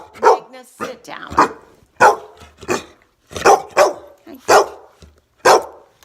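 Several groomed pet dogs in sweaters bark in sharp, loud bursts close by indoors, repeated at uneven intervals, with yips mixed in.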